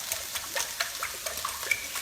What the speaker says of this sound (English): we'll just take this over to the sink and drain this out